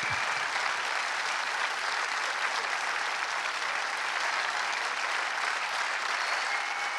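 Sustained audience applause at a Terminator 2 3D film premiere, a dense, steady wash of clapping that stays loud and even throughout without talk.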